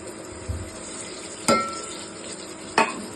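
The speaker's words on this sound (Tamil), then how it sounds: "இப்போ வெங்காயம் நல்லா வதங்கிச்சு" Onions sauté in a pan for vegetable biryani, a soft continuous sizzle with two sharp metallic clinks of a spoon against the pan and no one talking.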